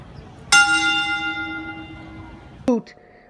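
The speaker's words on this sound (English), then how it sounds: "So when wrestlers pass away, the WWF has a 10 Bell Salute." One struck bell rings out with a long shimmering decay, then a second, shorter strike follows near the end, a tolling like a wrestling ten-bell salute.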